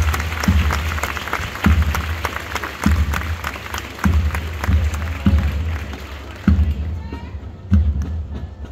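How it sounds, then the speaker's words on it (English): Crowd applause at an Air Force basic training graduation ceremony at Lackland, San Antonio, a steady wash of clapping and crowd noise punctuated by regular heavy low thuds, fading toward the end as the crowd quiets. "Please hold your applause until all names have been announced."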